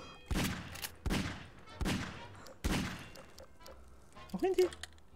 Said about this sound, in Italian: Sono io che sparo.